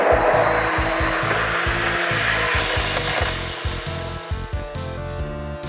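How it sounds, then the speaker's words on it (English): A handheld immersion blender purees a smoky black bean soup, whirring loudly and steadily with a churning, gritty edge that eases and turns choppy toward the end. "using my hand wand, I took half the mixture or a little bit more, and I'm just going to puree it thoroughly"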